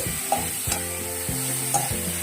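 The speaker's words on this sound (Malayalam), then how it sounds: "നല്ലതുപോലെ ഇളക്കി അടച്ച് വെച്ചിട്ട്" A spatula stirs pumpkin leaf thoran in a pan over a soft sizzle, with several distinct scraping strokes spaced through the clip, close and fairly loud, and no talking.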